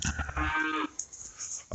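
A farm cow, one of a pair spooked near calves, lets out a loud, close moo lasting under a second, followed by quieter rustling and a sharp noise at the end.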